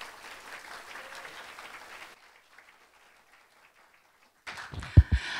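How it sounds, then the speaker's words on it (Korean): An audience in Korea claps steadily at a gathering for newly certified loss adjusters, welcoming a guest. The applause lasts about two seconds, then cuts to near silence before a few close thumps and handling noises. "큰 박수와 함성 부탁드리겠습니다."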